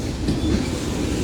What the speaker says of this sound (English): It is one engine, so it shouldn't be too long of a train.